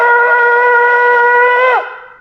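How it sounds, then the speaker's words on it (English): A single long, steady shofar blast, a tekiah, held loud and clear for nearly two seconds before it bends down in pitch and fades out. "First, we need to do Tkiyah."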